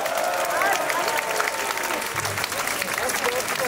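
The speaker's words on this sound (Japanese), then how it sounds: "ステージダイブをしなかったみんなで拍手" At a Genbaku Onanies punk show, the audience claps in a thick, sustained wave with a few scattered cheers, and a voice can be heard speaking through the noise.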